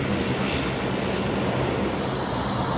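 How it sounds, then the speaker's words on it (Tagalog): A Philippine Airlines airliner taxis toward the airport, its engines making a loud, steady, broadband roar that fills the whole stretch without a break. "yan yung nag-land kanina, nagta-taxi na ulit papunta sa airport"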